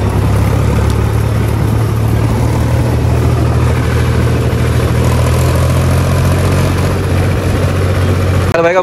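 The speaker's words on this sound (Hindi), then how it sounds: "ट्रैक्टर से जा रहे कैंप में।" A tractor engine drones steadily throughout a ride to camp in the hills near Manali, a loud, constant low rumble with no clear pauses and no talk over it.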